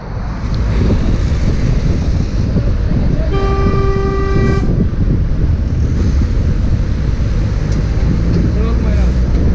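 A single long car horn blast of about a second rings out at a cyclist over loud wind buffeting and engine rumble.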